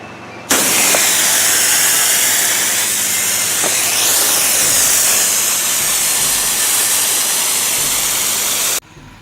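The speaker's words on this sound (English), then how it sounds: "I have to spray the roof with my roof cleaner, then with a mild rinse" Steady loud hiss of a sprayer laying roof cleaner onto a metal roof in Langley, BC, starting abruptly and running continuously for about eight seconds before cutting off, close and alone with no talk.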